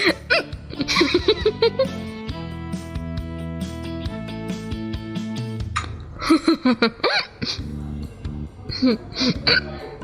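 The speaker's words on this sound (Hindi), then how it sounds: "जब भी मैं बहुत खुश होती हूँ तो मुझे हिचकी लग जाती है" Hiccups from a woman in a dubbed drama scene, several short sharp vocal catches spread across the clip among speech and a music backing.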